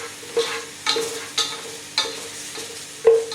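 Cashews and raisins fry in coconut oil for Kerala beef biryani, with a spoon scraping and stirring the pan in sharp, regular strokes about twice a second over a faint, low sizzle.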